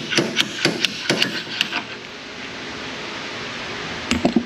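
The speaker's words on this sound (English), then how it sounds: "it comes with a built-in slide hammer" A quick series of sharp metallic strikes from a slide hammer on car suspension parts rings out close up, roughly eight rapid knocks, a pause, then a few more hits.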